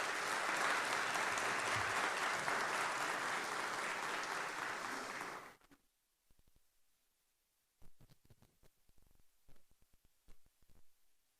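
An audience at a formal lecture event applauds a minister, loud and sustained clapping that stops abruptly about halfway through, followed by quiet shuffling and small knocks.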